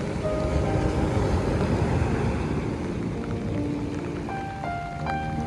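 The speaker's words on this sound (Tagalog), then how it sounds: "Medyo umuulan po." Light rain falls outside a house, a steady soft hiss with low rumbling wind, alone, with a few faint tonal sounds near the end.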